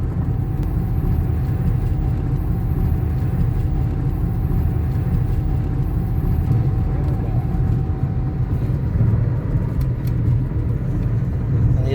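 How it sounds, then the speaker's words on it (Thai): Inside a 2008 Toyota Altis with very high mileage, the engine drones steadily at a constant speed in fifth gear, a loud, even low rumble with no changes in pitch. "ตอนนี้เกียร์ห้านะครับ รอบยัง สองพันนิ่ง ๆ เลยนะครับ"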